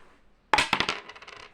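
A single foreign coin drops onto a hard surface, landing with a sharp ring and then a quick run of bright, fading bounces and rattles, close and clear in a quiet room.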